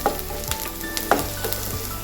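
Sliced onions sizzle steadily in hot oil for a Kerala thattukada-style peas curry. Occasional clacks of a stirring spoon sound close by, and no one speaks.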